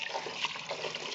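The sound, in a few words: running tap water washing rice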